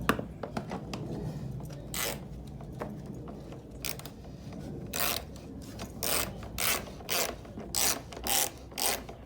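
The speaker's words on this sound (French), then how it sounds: "Maintenant, on resserre ce boulon." A bolt on an engine is tightened by hand, giving a series of quiet clicking ratchet strokes that grow into a steady rhythmic run of rasping pulls toward the end.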